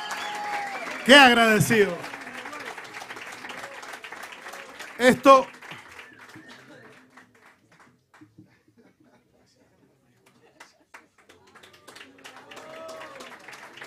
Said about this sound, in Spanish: Por favor, un aplauso bien fuerte para él